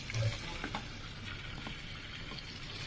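Marinated chicken fries in oil for a chicken pickle, with a continuous moderate sizzle and light bubbling, plus soft stirring clinks and scrapes throughout.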